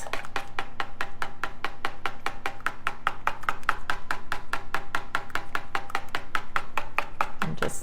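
Three egg yolks are beaten by hand for a lemon meringue pie with fast, regular whisk strokes against a bowl, close and steady, a sharp tick on every beat with no talk.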